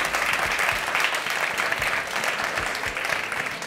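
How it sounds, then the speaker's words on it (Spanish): A studio audience on a Spanish TV quiz show applauds the competing teams with continuous, dense clapping that stays steady and fairly loud throughout. "Pues fuerte el aplauso para ellos"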